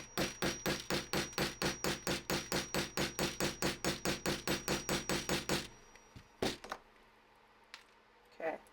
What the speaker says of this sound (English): Okay. Take my hammer.